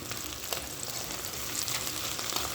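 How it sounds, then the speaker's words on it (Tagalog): Onion and garlic sauté in hot cooking oil in a pan, giving a steady, close crackling sizzle with scattered sharper pops and no talk. "nagsangkutsa lang tayo ng sibuyas at bawang"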